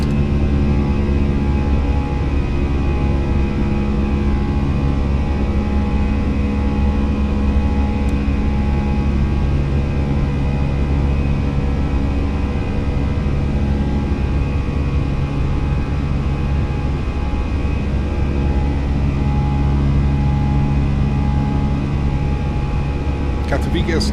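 Airliner jet engines held at climb thrust in an easyJet flight simulation, a steady, loud, unbroken roar with constant tonal whine and no pauses.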